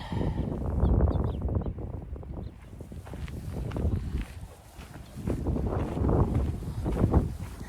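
Gusty wind on a Montana mountain trail buffets the microphone in uneven rumbling bursts, swelling and fading over several seconds.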